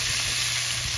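Garlic frying in a pan while cooking duck, a steady dense sizzle with soft crackle throughout, loud and close, no voices.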